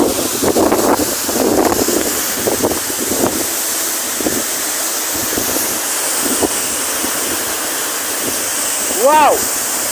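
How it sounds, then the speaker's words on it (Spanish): Roaring water crashes behind the Salto del Agrio waterfall in Neuquén, Patagonia, a steady broadband rush with wind buffeting the microphone, while a person talks over it and exclaims near the end. "Estamos atrás de la cascada, se me está mojando el teléfono."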